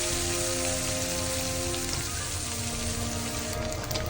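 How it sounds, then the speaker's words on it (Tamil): Anchovies frying in oil in a pan, a dense, steady sizzle like heavy rain, close and continuous throughout. "சட்டியில் ஒரு எண்ணெயை ஊற்றி இந்த நெத்திலியை வந்து ஃப்ரை பண்ணி எடுத்துக்கலாம்"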